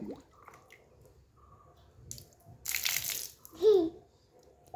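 A child stirs and splashes water, making scattered small drips and squishy splashes, with a brief vocal sound near the end.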